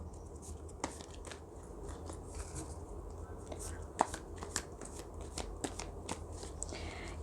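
Tarot cards being shuffled by hand during a reading, a soft continuous riffling with faint snaps and flicks, quiet and close.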